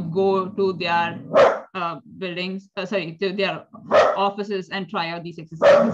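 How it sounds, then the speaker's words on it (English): A dog barks in several sharp, loud bursts close by, cutting through a person talking continuously. "That's my dog just being a bit irritated."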